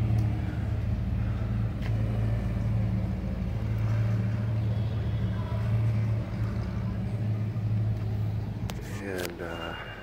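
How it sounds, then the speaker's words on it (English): A lowrider car idles and rolls slowly around Albuquerque's Old Town Plaza, a steady deep engine rumble up close that eases off near the end. "There's some lowrider cruising the plaza over here."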